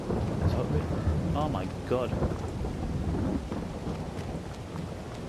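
Thunderstorm rain in the Farming Simulator 22 video game, a steady dense wash of rain with rumbling thunder throughout, while someone speaks briefly over it.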